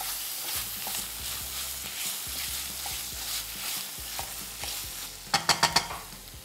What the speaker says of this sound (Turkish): Her şeyi güzelce kavuruyorum.